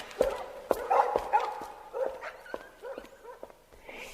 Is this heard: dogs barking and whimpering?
yes